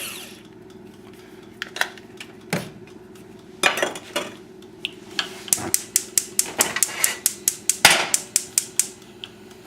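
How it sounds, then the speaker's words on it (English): A cabbage kimchi mixture goes back into a skillet with a string of sharp metallic taps and scrapes, quickening into a rapid run of clinks near the end, close and clear with no talking. "place it back in the skillet."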